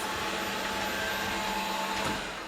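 A Tesvor X500 robot vacuum cleaner hums and whirs steadily nearby with a faint whine, tapering slightly at the end as it shuts down.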